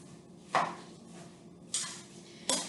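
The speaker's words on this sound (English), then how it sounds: "And my apple mixture, I'm going to keep stirring it." A spoon stirs softened apple strudel filling in a pan, giving three distinct scraping clinks against the metal over a low background hum, close and with no talk.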